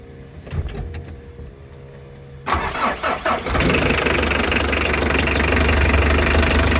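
An overheating Mitsubishi L300 diesel engine cranks with a few stuttering turns, then catches and settles into a loud, steady, rumbling idle.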